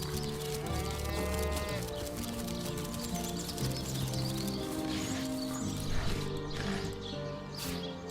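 Sheep bleat repeatedly in Divinity: Original Sin Enhanced Edition amid a busy game soundscape with background music and scattered effects, the animal calls fairly clear.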